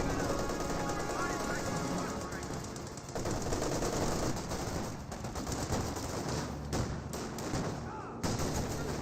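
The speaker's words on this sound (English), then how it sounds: "That's a lot of mortars." Dense, continuous battlefield fire from Company of Heroes 2 with the Spearhead mod, mortar blasts layered with rapid machine-gun rattle, loud and sustained under a commentator's voice.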